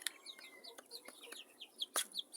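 Curly Cochin chickens give soft, quick chirps and clucks in a rapid irregular series, faint and close, in a quiet setting.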